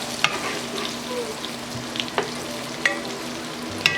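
Beef for broccoli beef fries in a pan with a continuous close sizzle, punctuated by a few sharp clinks and scrapes from stirring.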